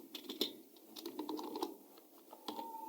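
Quiet, irregular clatter of fingers typing on a computer keyboard, a quick run of light keystrokes in short bursts with small gaps, close by and faint.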